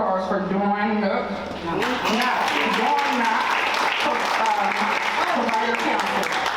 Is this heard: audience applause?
yes